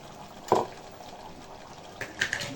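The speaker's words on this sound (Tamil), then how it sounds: "இப்போது தேங்காய் ஊற்றிக்கலாம் ஏன்னா குக்கரில் வைக்க போகிறோம்னா" Coconut is poured into a pressure cooker dish in the kitchen, with two short, close liquid splashes over a faint background hiss.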